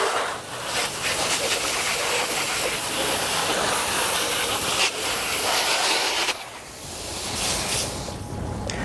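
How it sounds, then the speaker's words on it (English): Steady hissing spray of water from a hose nozzle on fan setting rinsing a BMW M3 engine bay, close and continuous, with a brief pause and change in the spray near the end. "I'm going to hose it all off."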